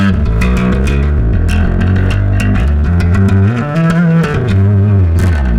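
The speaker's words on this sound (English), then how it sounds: "you'll start to get that growl and distortion of the tubes" Bass guitar through a TC Electronic BH500 amp pushed into tube-style growl and distortion, a loud, continuous gritty sustained bassline with shifting notes and no talking.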